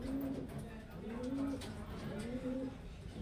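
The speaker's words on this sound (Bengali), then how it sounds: "দুর্দান্ত কোয়ালিটির পায়রা, সব ওড়াই পায়রা ফ্রেন্ডস।" Highflyer pigeons coo in repeated soft, rolling phrases at close range, a steady low murmur of calls over a busy background.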